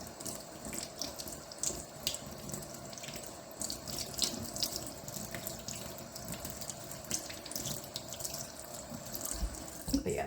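Tap water runs into a sink while rabbit feet are rinsed under it, a steady, fairly quiet stream with small splashes and irregular clatters, no speech.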